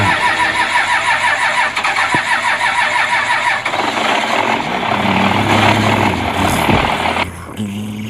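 A truck engine cranks with a rapid rhythmic churning, then catches and fires into a rough running idle before dropping off near the end, heard close and loud.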